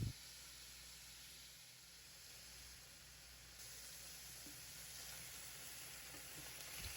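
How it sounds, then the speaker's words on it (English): Pork sears in a hot pan for a one-pot stew, giving a steady, even sizzle and hiss that runs continuously with no talking over it. "Add the pork and spread it evenly. Let it sit, don't stir. You want it to brown, not steam."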